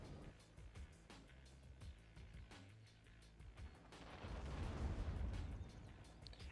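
Crusher units firing shots at a K-Max in the real-time strategy game Act of Aggression, with repeated sharp bangs over a rumbling battle bed that swells toward the end, quiet overall.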